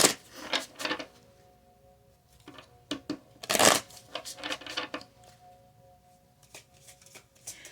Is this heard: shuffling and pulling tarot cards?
yes